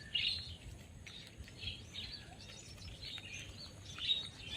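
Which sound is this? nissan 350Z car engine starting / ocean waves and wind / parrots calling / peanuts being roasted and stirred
parrots calling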